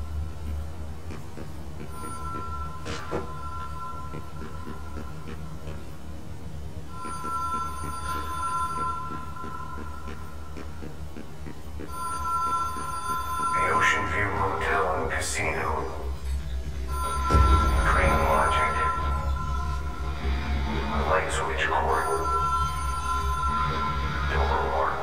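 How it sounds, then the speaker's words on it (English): A telephone rings in the video game Control, a bright electronic ring repeating roughly every five seconds over a low ambient rumble, with a voice talking over the later rings. "I can hear the phone."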